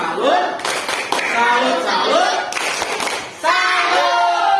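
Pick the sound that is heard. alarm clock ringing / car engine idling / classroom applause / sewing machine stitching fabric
classroom applause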